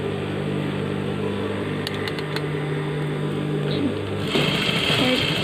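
A sewing machine hums steadily while stitching a shirt sleeve, a continuous close mechanical whir with brief ticking clicks partway through and a slight change in pitch near the end.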